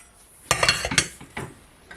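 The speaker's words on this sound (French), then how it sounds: "Voilà, on les remet dans la casserole." Drained carrots go back into a saucepan, heard as a few close, quick clinks and knocks of metal on metal with short, soft, wet clatter in between, no talking.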